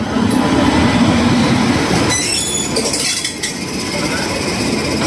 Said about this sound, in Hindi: इधर आई थिंक आ चुकी है उपासना एक्सप्रेस